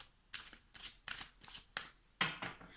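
Chakra oracle cards are shuffled by hand at close range, producing six quick riffling bursts in a steady rhythm with no talk over them.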